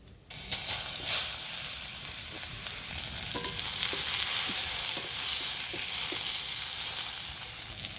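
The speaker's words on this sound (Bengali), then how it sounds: "ওই তেলের মধ্যে দিয়ে দিচ্ছি পেঁয়াজ" Onions fry in hot mustard oil with a steady, close sizzle that holds throughout, broken by a few soft scraping stirs, with no talking.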